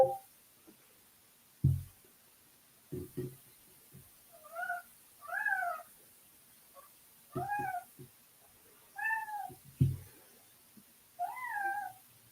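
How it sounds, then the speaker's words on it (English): A cat meows repeatedly in a series of rising and falling calls spaced a second or two apart, fairly close, mixed with a few soft thumps and rustles in a quiet room. "I'm gonna let this cat in and we'll get started."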